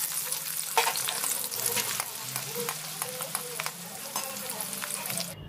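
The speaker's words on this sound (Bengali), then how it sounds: "সেই তেলের মধ্যে আমি গোটা গরম মশলার ফোড়ন দিয়ে কুচনো পেঁয়াজ দিয়ে পেঁয়াজটা লাল লাল করে ভেজে নেব" Finely chopped onions fry in oil with whole garam masala for a Nawabi shahi chicken. The crackling sizzle is close and continuous, broken by scraping stirs and a few louder pops.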